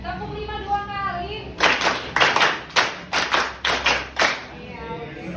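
A classroom of children clapping a counted rhythmic pattern, two groups of sharp, close hand claps in quick succession, framed by a teacher's voice speaking before and after.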